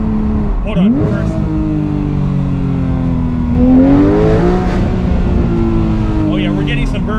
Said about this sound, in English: Oh yeah, we're getting some burbles for sure.